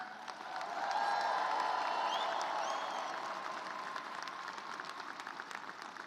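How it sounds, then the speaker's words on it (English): Graduates at a university commencement ceremony applaud and cheer, a broad wash of clapping with scattered whoops that swells after the first second and then slowly thins, heard from within a large crowd. "give yourselves a hand and everybody cheer for that"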